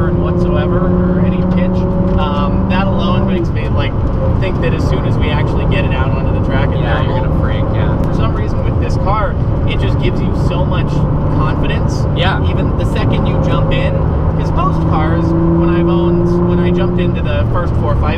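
A Ford GT engine drones steadily and loudly while driving and cornering, with its pitch shifting through the turns. Continuous talking carries over the engine noise from start to finish.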